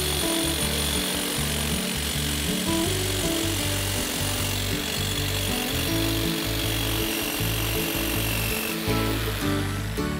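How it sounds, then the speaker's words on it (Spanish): A jigsaw fitted with a metal-cutting blade saws through a steel hoop strip from a wine barrel, a loud continuous buzzing rattle with a fast reciprocating chatter, close and steady throughout. "aquí la tenemos, sierra de calar, a la cual... Ya veis, tenemos la misma hoja que antes, una hoja para cortar metal"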